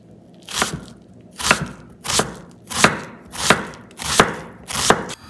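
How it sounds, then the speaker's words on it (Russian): A knife chops onions into small cubes on a board, with six or seven loud, evenly spaced strokes close up and no voices. "Для начинки возьмем 2 головки лука и измельчим на квадратики"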